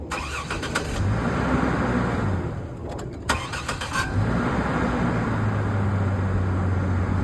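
A Ford Focus with a failing starter struggles to crank, with uneven grinding bursts and a brief stumble before the engine catches and runs as a steady rumble up close.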